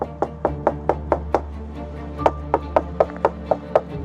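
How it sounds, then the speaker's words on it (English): Knocking on the doors and windows of a house, a steady series of about fifteen sharp, evenly spaced raps, loud and close, with a faint steady hum underneath. "after knocking on every door and window"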